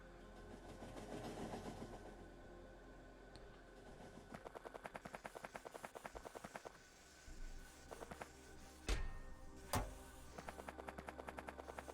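A video game train unloads iron ore with rapid, regular mechanical clicking in repeated bursts, broken by a few heavier thuds and clanks, all fairly quiet with no voices.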